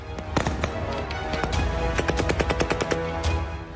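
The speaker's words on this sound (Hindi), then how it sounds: "खुला आसमान है और आसमान से टकराती गोलियों की आवाजें।" Rapid bursts of gunfire at Kabul Airport crackle in quick, uneven volleys, sharp and fairly close, with loud shots overlapping throughout.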